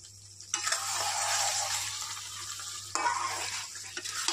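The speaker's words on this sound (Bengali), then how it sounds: "আস্তে আস্তে করে নাড়তে থাকবো।" Sweet mango pickle cooked with sugar is stirred slowly in a pan over low gas, giving a steady close scraping and sizzling texture with no talk, broken by a brief pause partway through.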